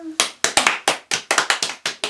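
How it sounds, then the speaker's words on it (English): Hand clapping during a baby storytime rhyme: about a dozen sharp, close claps in a loose, quick rhythm, each a crisp snap with brief silences between, preceded by a short vocal tone. "Clap, clap, clap."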